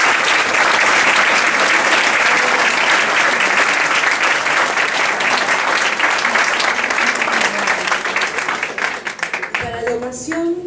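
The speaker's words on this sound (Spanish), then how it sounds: "para los que pido un fuerte aplauso" Sustained, dense applause from an audience honouring a book's authors at a history teacher-training programme event, loud and steady for about nine seconds before thinning out, with a few voices emerging at the end.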